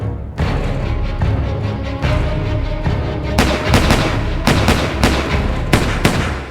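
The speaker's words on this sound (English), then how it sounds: "Floyd shoots, Ricchetti shoots, everybody misses." A string of gunshots rings out in a shootout with a sheriff, sharp loud cracks scattered irregularly over a rumbling background, several coming in quick succession toward the end.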